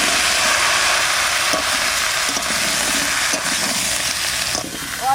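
Pumpkin pieces drop into a pan of frying shrimp and potatoes, giving a loud, steady sizzle with faint stirring scrapes that stays strong throughout.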